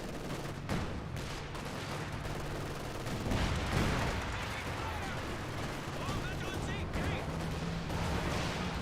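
Rapid automatic gunfire from an M42 anti-tank gun engaging a Sherman tank in Company of Heroes 2, a dense continuous battle din of shots and explosions with a voice talking over it.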